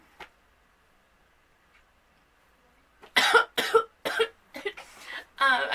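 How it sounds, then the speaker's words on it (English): A woman coughs several times in quick succession, close and fairly loud, after a few seconds of near silence with a couple of faint clicks. "I tried not to cough, but you know, I need to breathe"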